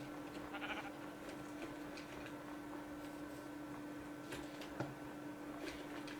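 A sheep in the Minecraft video game, in a snowy tundra setting, gives a short bleat early on, then a few soft clicks and ticks over a steady hum of game ambience.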